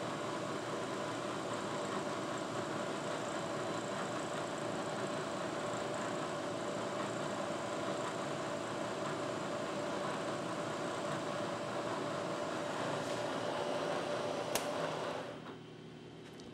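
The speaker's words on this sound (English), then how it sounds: "This is a 2-flute quarter inch end mill. Let's fire up." A manual milling machine cuts metal with a 2-flute quarter-inch end mill, giving a steady, even machining drone with a faint high whine that holds for about fifteen seconds before cutting off near the end.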